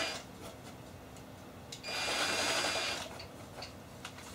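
A drill bores a countersink into the wood of an IKEA motorized bed base, a short hissing whir of about one second amid faint scraping and light taps, with nobody speaking.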